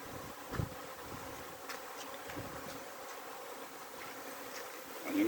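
Honey bees buzz steadily throughout an outdoor bee yard, a continuous moderate drone with no voices.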